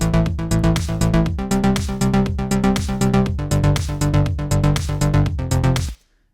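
Synthwave bass line from the Alchemy synth's arpeggiator in Logic Pro X, mode set to up, pulses in a steady fast rhythm of repeated notes, loud and continuous for about six seconds before stopping abruptly.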